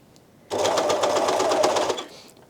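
An Elna Elina 792D overlocker running a seam and trimming fabric at the side, a loud, close, steady rapid whirring stitch lasting about a second and a half, then winding down.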